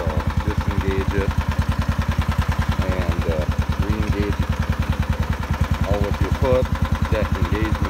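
A Kubota T1560 lawn tractor engine idles with a steady, close chugging pulse while someone talks over it.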